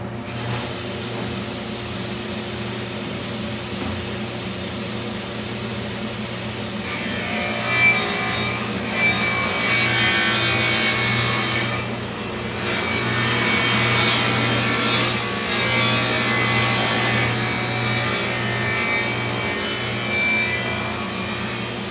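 A power saw cuts through 3/4 inch wood with dust control running while building a coffin-shaped coffee table; a steady motor drone grows louder and harsher partway through as the blade bites, continuing as a sustained close cutting roar.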